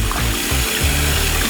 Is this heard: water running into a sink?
yes